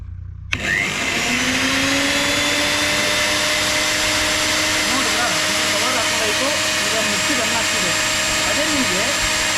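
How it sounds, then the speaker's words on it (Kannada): An electric mixer grinder whirs steadily after being switched on, its motor holding a loud continuous drone with rising and dipping tones for about nine seconds, running toward an overload trip. "ಈಗ ಮಿಕ್ಸಿ ಓವರ್ಲೋಡ್ ಆಯಿತು"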